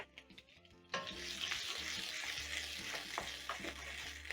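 A medium onion hits hot sausage cooking oil with a sudden sizzle, then fries steadily with crackles and occasional stirring clatter, close and fairly loud, after a brief quieter moment before it goes in.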